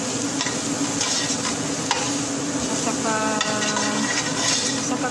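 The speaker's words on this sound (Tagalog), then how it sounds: "Ayan, karne, ihalo ko siya dito." Ground meat is stirred in a pan, with a spoon scraping steadily over continuous loud sizzling frying, close up and with no talking.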